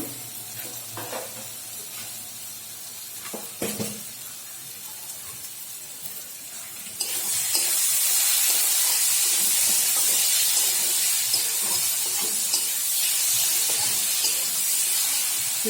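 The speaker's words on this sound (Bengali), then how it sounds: "জল দিয়ে দিচ্ছি অল্প" Water poured into a hot pan of doi chingri (shrimp in yogurt gravy): a few light stirring clinks, then a sudden loud, steady sizzling hiss of steam that carries on at full strength.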